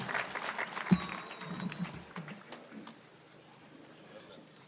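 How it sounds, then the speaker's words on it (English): An audience at a university graduation ceremony applauds after President William Ruto's speech, a short burst of fairly faint clapping that fades out within a few seconds. "a round of applause to His Excellency the President"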